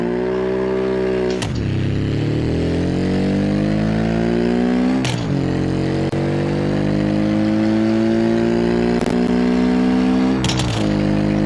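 An off-road sports car engine in BeamNG Drive revs repeatedly, its pitch climbing steadily and dropping sharply at each gear change, loud and close with no talking.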